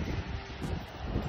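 Strong wind buffets the microphone outdoors in winter, a loud low rumbling roar with uneven gusty surges and no clear voices.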